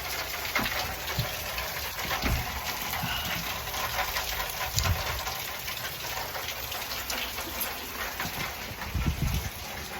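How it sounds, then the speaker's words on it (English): Steady rain falls outdoors, a continuous broad hiss of drops with occasional low thumps from water hitting surfaces, and no voices. "It's raining."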